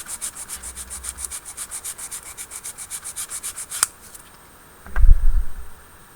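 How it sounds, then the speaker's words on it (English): Plastic 1/35 scale model tank track pieces are sanded by hand with a rapid, regular back-and-forth rubbing rhythm for several seconds, then a short pause and a louder scrape and thump close up. "they just need a bit of cleaning up, a bit of sanding off"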